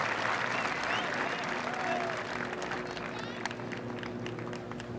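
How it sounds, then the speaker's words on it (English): A golf gallery at the 1981 Masters final round applauds a shot with broad, sustained clapping from a large outdoor crowd that slowly thins, while a commentator's voice runs low beneath it. "Rightly applauded."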